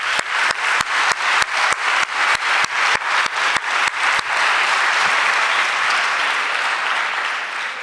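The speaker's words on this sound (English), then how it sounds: "So please, let's just give them a hand of applause." Audience applause at a February 2019 staff assembly: about a dozen loud, evenly spaced claps open it, then a dense wash of crowd clapping fills the room and slowly tapers, with no talking over it.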